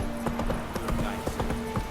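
Horse hooves clip-clop in a quick, steady rhythm as Roach gallops in The Witcher 3, with speech over the hoofbeats.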